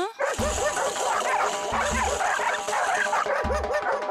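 A dog in a comedy dog show scene barks and yips repeatedly in quick, excited bursts, close and loud over a busy background with faint voices and some whimpering.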